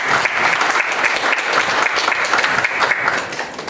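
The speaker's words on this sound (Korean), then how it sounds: "이창열님 박수 부탁드립니다" Audience applause at a boxing title-bout press conference, dense steady clapping from a room full of people, loud and close, tapering slightly at the end.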